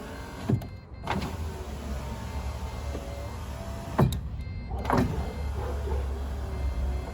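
Electric power window on a Ford AU Falcon car, rewired with a relay, whirring down then up in two steady motor runs, each ending with a clunk as the glass stops, close and clear, no talk.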